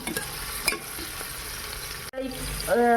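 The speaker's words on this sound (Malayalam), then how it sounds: "സവോള ഒന്ന് ഇളക്കി അതിലേക്ക് നമ്മൾ നമ്മൾ അരച്ചു വെച്ചിരിക്കുന്ന മസാല ചേർത്ത് കൊടുക്കുകയാണ്" Onions and ground green masala stirred in a hot pan give a steady close sizzle with spatula scrapes, broken by a brief gap before the frying hiss swells again.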